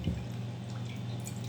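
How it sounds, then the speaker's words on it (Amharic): Water poured over garlic and ginger for homemade mustard, a soft, continuous trickling and splashing that stays faint and close throughout. "ይሄው እንደዚህ ውሃ አረኩበት።"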